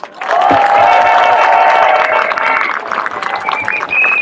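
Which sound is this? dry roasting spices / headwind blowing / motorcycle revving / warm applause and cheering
warm applause and cheering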